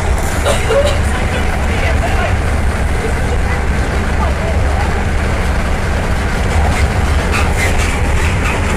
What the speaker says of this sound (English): The carriages are so noisy.